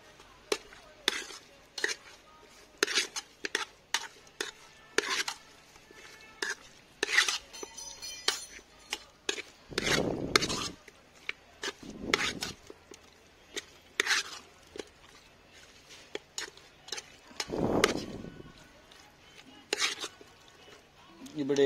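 Raw chicken is mixed with coriander powder and other spices for donne biryani, a quiet, irregular series of clinks, scrapes and wet stirring knocks close by, with short pauses between strokes.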